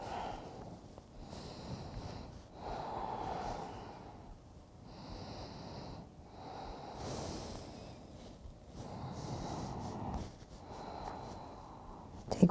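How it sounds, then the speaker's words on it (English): Slow, deep breathing during a home yoga practice, soft and close, with long inhales and exhales repeating in an even rhythm of roughly one breath every two to three seconds, alone without talk. "allow you to listen to the sound of your breath here"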